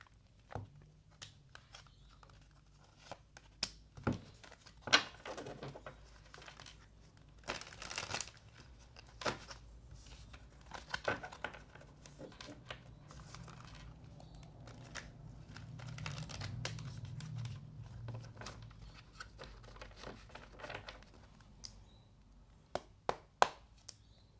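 Tarot cards riffled and shuffled by hand, a quiet run of soft papery flicks and taps in irregular bursts, with a brief denser rustle midway and no talking.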